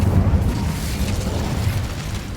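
An Incendio fire spell blast in Hogwarts Legacy roars as a loud, sustained low rumble with crackling texture, filling the whole moment without any speech over it.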